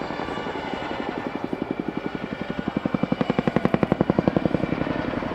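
A Chinook HC6A helicopter thunders overhead in an air show flying display, its heavy tandem rotor chop growing louder and more pronounced, a steady rhythmic beating that swells toward the end.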